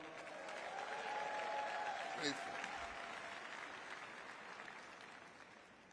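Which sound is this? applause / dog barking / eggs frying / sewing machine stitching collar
applause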